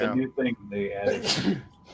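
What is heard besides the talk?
sneeze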